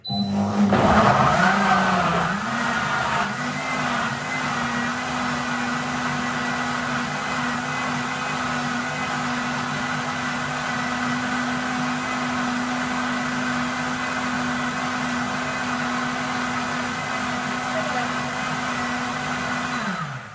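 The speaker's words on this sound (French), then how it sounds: "si vous avez un blender à haute vitesse, c'est génial, ça va super vite" High-speed blender whirring a green smoothie: a loud, steady motor roar with a strained start as the contents catch, then an even drone for the full length, no talking.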